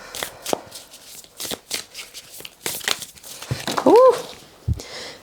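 Tarot cards being shuffled by hand, a string of short papery riffles and flicks, close and fairly loud, with a small drop or flip of cards.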